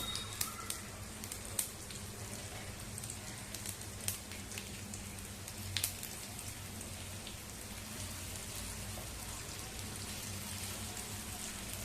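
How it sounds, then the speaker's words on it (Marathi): Bottle gourd vadis shallow-frying over medium heat in a mustard seed and sesame tempering, giving a steady, dense crackling sizzle with scattered sharp pops, close by and without any talk. "गॅस मध्यम ठेवायचा आणि वड्या चांगल्या परतवून घ्यायच्या"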